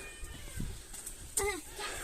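A single short cat meow rises and falls near the microphone, with faint background voices and rustling before it.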